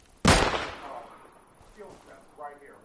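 A single loud, close gunshot in the video game Deadside cracks out near the start, then its tail fades slowly, followed by faint movement and a voice in the background.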